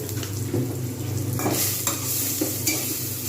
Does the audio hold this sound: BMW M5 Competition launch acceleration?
no